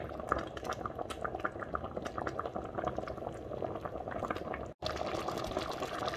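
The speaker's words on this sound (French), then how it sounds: "on va refermer à moitié et laisser bouillir tout ça gentiment, à feu moyen de préférence" Okra sauce with meat and beef skin boiling steadily in a half-covered pot over medium heat, a continuous close bubbling and popping that runs throughout with one brief dropout near the end.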